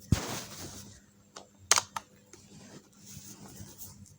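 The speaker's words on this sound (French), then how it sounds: "en appuyant sur CTRL Entrée sur le clavier, mon saut de page manuel apparaît" A couple of sharp, isolated key clicks come from pressing Ctrl+Enter on a computer keyboard in a quiet room, one right at the start and another partway through.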